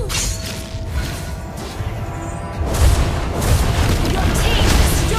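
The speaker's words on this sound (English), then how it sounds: "Your team destroyed the turret." A turret explodes in the Mobile Legends mobile game, a dense booming blast that swells in the middle and rolls on loudly under busy game effects, with no speech.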